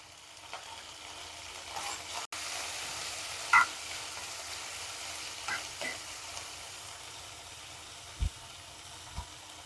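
Green chilies, tomato and onion sauté in oil in a pan for a homemade Indian lunch, giving a steady, soft, close sizzle broken by a few brief stirring taps and clinks, with no voices.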